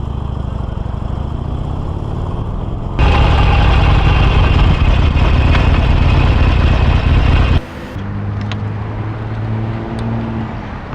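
A Harley-Davidson Sportster Iron 1200 engine idles close by with a loud, steady rumble, surging louder for several seconds before dropping back to a lower, lumpy idle.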